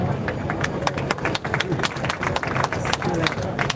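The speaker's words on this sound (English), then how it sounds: "Please keep the applause going strong." Applause from an outdoor audience at a ribbon cutting ceremony in Morant Bay, Jamaica, a dense patter of many hands clapping steadily with crowd murmur underneath.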